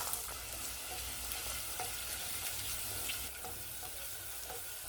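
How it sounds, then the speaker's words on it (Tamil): Onions sizzle steadily in hot sesame oil with fennel seeds, cardamom and cloves for a Chettinad kuzhambu. The frying is close and continuous with small crackles, and no voices are heard. "சோம்பு பொரிஞ்சதும் வெங்காயம் சேர்த்துடலாம்."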